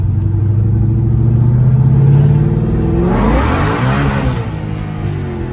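A Fox Body Mustang with a swapped GT500 engine revs up hard close by, its exhaust note rising in pitch through a strong pull before easing off, with no talking.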